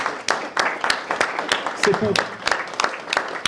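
A small audience claps at a senior citizens' celebration in Niederstinzel, giving a run of sharp, close, irregular handclaps. A voice briefly speaks in between.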